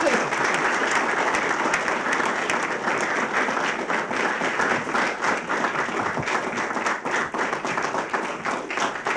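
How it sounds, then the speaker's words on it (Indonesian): Audience applause for a family introduced on an Indonesian television show, dense and sustained clapping from a crowd filling the whole stretch at a steady, fairly loud level. "Tepuk tangan untuk Bapak."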